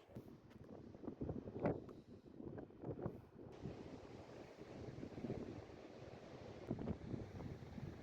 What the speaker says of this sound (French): il y a un peu de vent, mais ici il y en a toujours un peu